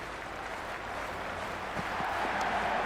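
Stadium crowd noise from the Cricket 26 video game during a Mumbai Indians versus Lahore Qalandars match, a steady roaring wash of cheering and applause that swells slightly toward the end, with no talking.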